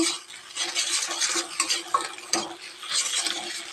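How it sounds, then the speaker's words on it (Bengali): An egg fries in a pan with steady sizzling under repeated scraping and stirring, with light metallic clinks of utensils against cookware, close and continuous. "আমি ডিমটা এদিকে ভাজা বসিয়ে দিয়েছি।"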